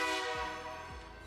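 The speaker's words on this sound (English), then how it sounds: "The train's here." A Minecraft train horn sounds as one sustained, steady horn tone that starts loud and slowly fades, with no talking over it.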